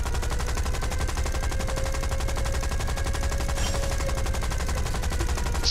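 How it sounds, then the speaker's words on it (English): Sustained rapid machine-gun fire from an aircraft's guns in the War Thunder combat flight game, a dense unbroken rattle that runs loud and steady through the whole stretch with no voices over it. "shoot the guns a bit"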